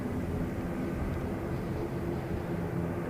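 A Singapore Airlines airliner passes at an airport, its engines a steady low rumble that holds evenly at moderate level throughout, with no talk over it.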